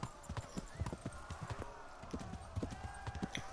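Rhythmic clip-clop of horse hooves trotting at a steady pace, fairly close, with an ambient backdrop from the video game Kingdom Come: Deliverance and no talking.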